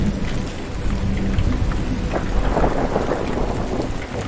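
A thunderstorm in the video game Make Sail: heavy rain pours steadily while deep thunder rumbles underneath, loud and continuous, with no voices.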